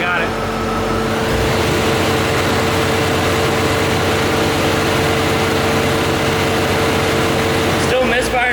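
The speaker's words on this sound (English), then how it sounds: "Still misfiring a little." A Corvette C4 engine runs steadily in gear with the brake held, a continuous loud low rumble carrying a slight misfire, with a brief change near the end.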